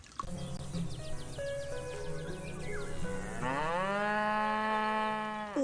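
A cow moos loudly and close by, one long drawn-out call that swells partway through, with a few faint bird chirps behind it.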